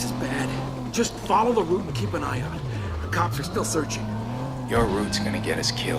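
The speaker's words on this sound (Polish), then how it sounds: "Naciśnij gaz, aby ponownie uruchomić silnik w swoim pojeździe." Car engine in the video game Watch Dogs: a continuous in-game engine drone that dips and swells in pitch as the car maneuvers, with bursts of other game noise and a person talking over it.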